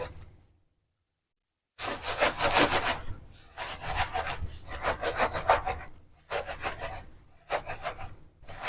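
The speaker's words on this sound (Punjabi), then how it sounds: "ਇਹ ਕੱਪੜੇ ਦੇ ਨਾਲ ਅਸੀਂ ਇਹਨੂੰ ਸਾਫ਼ ਕਰ ਲਿਆ ਚੰਗੀ ਤਰ੍ਹਾਂ" Whole spices for homemade garam masala rubbed clean inside a cotton cloth, a close, dry rasping scrub in repeated bursts with short pauses between, no talk.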